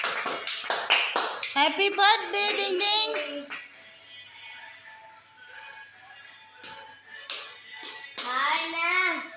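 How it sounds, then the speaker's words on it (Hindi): Hands clap in quick sharp bursts at a birthday celebration, first at the start and again near the end, mixed with children's and adults' voices talking and singing. "ताली वगैरह।"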